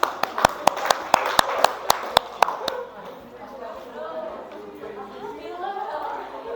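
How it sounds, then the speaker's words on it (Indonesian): A classroom of students claps in a quick, sharp burst of about a dozen evenly spaced claps, then the clapping fades into low murmuring chatter from the room. "Tepuk tangan."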